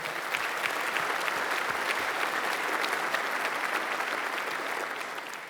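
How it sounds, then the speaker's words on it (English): Steady, dense applause fills the room as an audience claps for Rabobank's clients at a business leadership talk, holding level throughout before easing slightly at the very end. "if we can have a round of applause for Rabobank's clients today, that'll be great"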